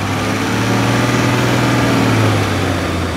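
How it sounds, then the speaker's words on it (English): A BMW 3-litre six-cylinder diesel in an INEOS Grenadier runs steadily, a close, loud, smooth engine drone with a slight swell in revs partway through and no talking. "just rev the engine for me"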